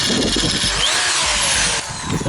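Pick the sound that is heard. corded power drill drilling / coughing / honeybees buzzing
corded power drill drilling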